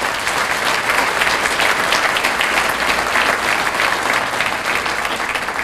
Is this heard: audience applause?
yes